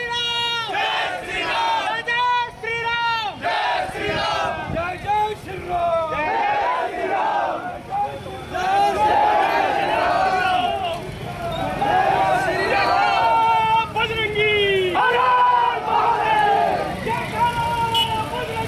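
Large protest crowd in Rajasthan, led by sadhus and saints, chanting slogans in loud rhythmic unison, call-and-response waves of many voices repeating over nearly twenty seconds with background hubbub.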